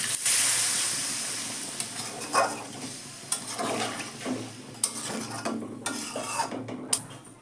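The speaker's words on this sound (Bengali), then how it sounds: "তেল কীরকম বাইরে বেরিয়ে আসছে দেখুন আমি এবার জল ঢেলে দিলাম" Water hits hot oil in a pan of fish curry, giving a close, steady sizzle and bubbling hiss with occasional sharp spits and stirring clatter.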